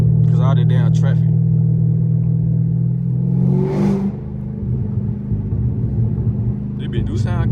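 Car exhaust burbling and rumbling from inside a moving car, a steady low drone with a swell near the middle, while someone talks over it at the start and end.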